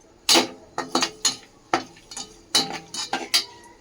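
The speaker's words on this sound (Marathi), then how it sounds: "आता हे टाकू काजू बदाम, 2 प्रकारचे मनुके आहेत आणि थोडंसं परतून घेऊया." A spoon stirs cashews, almonds and two kinds of raisins in a pan of ghee, giving a series of clinking, scraping strokes in irregular bursts, close and clear with no talk.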